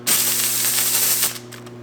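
A McCulloch MC1385 steam cleaner sprays steam in one steady, loud, close hiss lasting over a second before tailing off, with faint clicks at the end.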